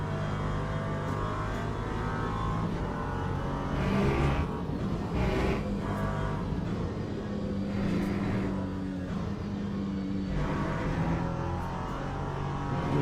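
LMP3 prototype race car engine in the Le Mans Ultimate sim at Silverstone, a steady close droning roar with throttle surges and lifts running continuously through the whole stretch.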